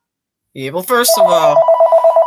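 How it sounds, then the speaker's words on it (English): A telephone rings in the background of an office, its steady pulsing electronic trill starting partway through and continuing under someone speaking. "Excuse that phone ringing back there."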